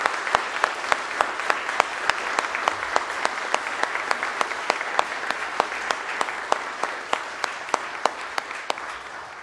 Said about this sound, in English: So for all, let's give a round of applause.